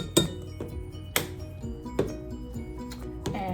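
A metal spoon clinks against a glass or ceramic bowl while half a tablespoon of nutmeg goes into a banana, carrot and beet bread batter; three or four sharp, close taps spaced about a second apart, with no talking.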